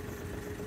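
A Smart car engine idles after warming up during a coolant bleed, giving a low, steady, faint hum with an even mechanical vibration.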